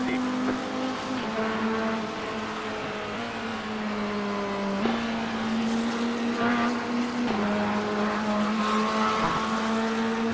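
Race car engines from an IMSA endurance race at Sebring in the iRacing video game drone loudly and continuously, rising and dropping in pitch through shifts, with a sharp shift near the middle.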